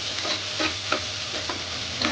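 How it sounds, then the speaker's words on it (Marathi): Masala paste and curry leaves frying on high heat in very hot oil, a steady close hiss with brief spitting crackles that flare up a few times, no voices. "हे बघा, लगेच आपला मसाला भाजून झाला, जास्त वेळ लागत नाही"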